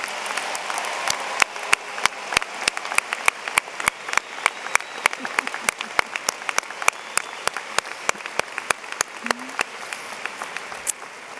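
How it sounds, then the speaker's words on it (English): Audience applause at a 2016 high school graduation ceremony, steady and sustained, with sharp individual claps standing out over a dense wash of clapping and a few faint voices underneath. "can we have a big round of applause?"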